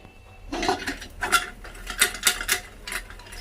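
Popcorn pops inside a covered pot on a home stove, a series of sharp rattling clicks and taps against the lid in irregular bursts, close and fairly loud.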